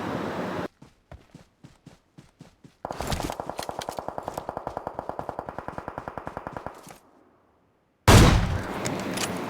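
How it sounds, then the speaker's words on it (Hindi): Gunfire in the PUBG Mobile video game: a loud, close burst of rapid automatic shots, first a few spaced single shots, then a long fast volley, a brief pause, and another heavy blast at the end. "मैंने एक शॉट मारा और धपाक।"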